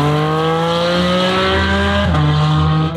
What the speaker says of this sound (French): Cayman, il fait du bruit.